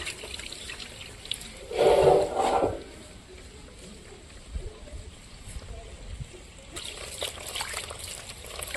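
Hands are washed in water outdoors in a village, with a burst of splashing and trickling for about a second near the start, then quiet open-air ambience with occasional faint drips.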